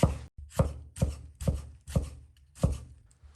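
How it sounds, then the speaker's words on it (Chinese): A knife chops a tomato into thick slices and then strips on a cutting board, giving seven crisp, evenly spaced thuds at a steady rhythm, close up with short silences between, no speech. "西红柿洗净，切成厚片，再切成小宽条"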